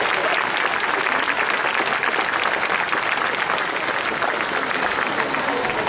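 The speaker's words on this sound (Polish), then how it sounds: "Wielki brawa." An audience at an international folk festival in Zielona Góra, Poland, claps continuously in dense, steady applause, loud and even throughout with no pauses.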